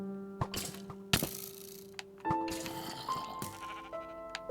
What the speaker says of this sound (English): Don't shoot the sheep.